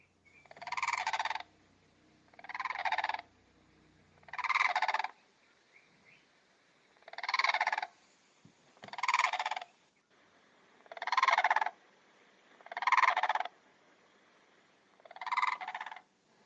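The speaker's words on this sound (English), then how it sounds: "That was the call of the blue crane." A blue crane gives a series of harsh, croaking calls that repeat about every two seconds, fairly loud against a quiet background.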